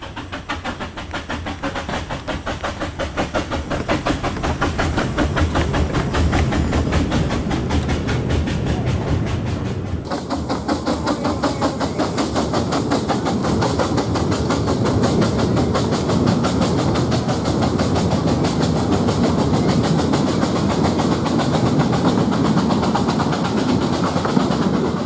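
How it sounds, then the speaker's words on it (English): A powerful Prairie 2-6-2 tank steam locomotive climbing a 1 in 29 gradient, its rapid rhythmic exhaust beats and clattering wheels loud and close throughout, with a change in the surrounding noise partway through. "this powerful tank engine seems to make light work of the line's 1 in 29"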